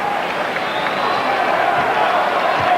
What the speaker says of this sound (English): this crowd is trying to will this team back into the ball game